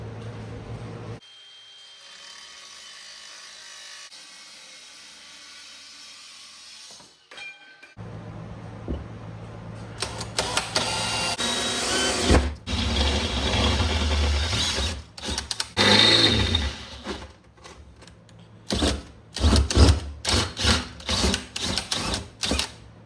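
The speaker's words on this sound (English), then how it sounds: "let's cut some metal" Metal being cut for a valve seal job on a 2G DSM engine, with quiet shop ambience at first, then harsh, loud grinding and cutting bursts starting and stopping repeatedly at close range.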